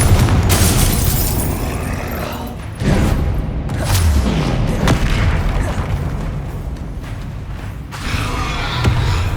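Confringo fire spells in the Hogwarts Legacy video game burst in loud, close booms and crackling blasts, one after another over steady rumbling game noise.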